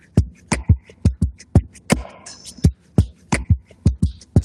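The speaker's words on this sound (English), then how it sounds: "Now shaker." A shaker loop playing on a looper pedalboard, a steady rhythmic pattern of sharp, close, percussive hits that repeats evenly throughout, loud and clear with no voices.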